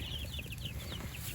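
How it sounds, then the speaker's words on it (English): Brahma hens cluck softly in a farm flock, with short, repeated high calls over a low steady background hum. "a few Brahma hens"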